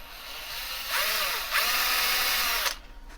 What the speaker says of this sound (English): Drilled through there.